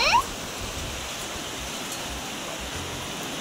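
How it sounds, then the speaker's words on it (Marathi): Heavy rain pours down in Indapur as a steady, dense hiss of water that stays even and constant throughout, with a brief sharper sound at the very start. "खूप खूप जोराचा पाऊस चालू झालाय"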